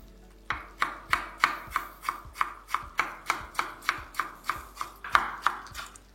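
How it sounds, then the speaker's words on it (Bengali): A knife slicing tomatoes into thin slices on a cutting board, a fast, even run of crisp chopping thuds, close and clear, with no speech. "আমি এখানে 350 গ্রাম টমেটো কেটে নেব, যেটাকে আপনাদের ঠিক এইভাবে পাতলা পাতলা করে কেটে নিতে হবে।"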